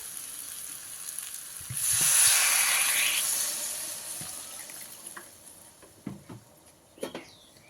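Water poured into a pan of sizzling potatoes and spices for a Bengali potol chingri dish sets off a sudden loud hissing burst that fades over a few seconds into a quieter simmer, with a few light clinks afterward.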